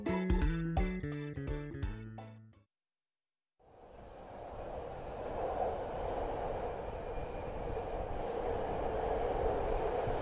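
Video game scene of a train running on rails: a brief musical jingle, a short pause, then a steady rumbling rail ride with soft clatter continuing to the end.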